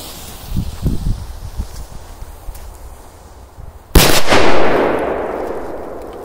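P100 and P2000 firecrackers set off outdoors: a few small pops and rustling, then one sharp, loud blast followed by a long, decaying rumbling echo.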